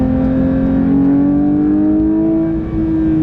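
A manual Porsche 911 GT3 sports car engine revs high and steady toward 9,000 RPM, its pitch slowly climbing in a loud, continuous whine with a brief dip near the end.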